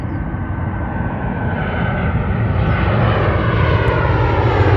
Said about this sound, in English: I see a plane landing.